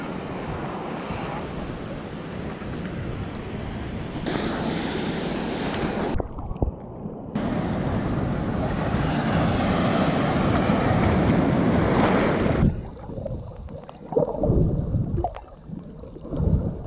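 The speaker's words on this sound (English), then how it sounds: "The waves are so strong, it's bringing stones and that's hitting my leg." Strong ocean waves crash and roar at a beach in Nusa Lembongan, Indonesia, a loud sustained rush of surf with heavy wind buffeting the microphone, broken by brief dropouts and choppier splashing near the end.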